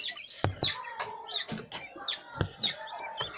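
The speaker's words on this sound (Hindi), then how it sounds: "यहाँ देखिए मुर्गी सब है छत में भी।" Chickens on a rooftop cluck and call in short, irregular bursts, several birds close by, with sharp chirps mixed into the clucking and no talking.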